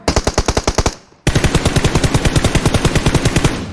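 Rapid automatic weapon fire in the mobile shooter Peace Elite, two loud close bursts of evenly spaced shots with a brief gap between them.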